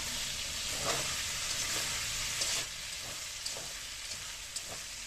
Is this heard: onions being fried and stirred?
yes